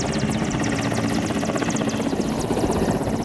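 An Mi-17 helicopter at an Indian naval air station in the Indian Ocean region drones loudly and steadily, its rotor chop forming a dense, continuous roar that fills the whole clip with no voices.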